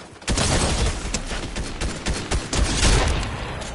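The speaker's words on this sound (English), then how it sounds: "People shooting." Dense, continuous gunfire from players shooting in a Fortnite match, rapid overlapping shots and booms sustained at high level throughout with no talk.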